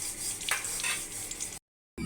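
Dried red chilli and chopped onion frying in hot oil, a steady close sizzle with a brief stirring burst partway through, then a short cut to silence before the sizzle returns.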